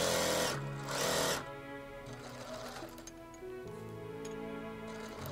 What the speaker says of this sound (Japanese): シームポケットがあるので袖下からポケット口の上まで、そしてポケット口の下から裾までというようにミシンをかけます。